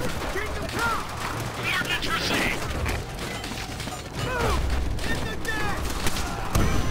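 Call of Duty: World at War battle at Shuri Castle, where steady gunfire pops and rattles in a dense, unbroken layer with mechanical clatter and whistling effects, mixed with voices.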